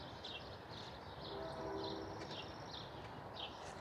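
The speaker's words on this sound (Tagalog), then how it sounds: "Dinig na dinig din dito yung tren, no?" A train rumbles past nearby on an overcast day, a steady low roar with rhythmic clacking and squealing wheel tones, and birds chirp repeatedly over it.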